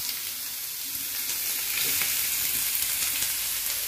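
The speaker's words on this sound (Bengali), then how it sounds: "এরপর আমরা এই তেলের ভিতরে লাউয়ের খোসাটা একটু দিয়ে দেবো" Bottle gourd peel frying in hot oil on a low flame, a steady dense sizzle that stays loud and even throughout, with faint occasional crackles and no voices.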